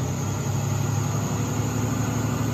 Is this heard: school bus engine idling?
yes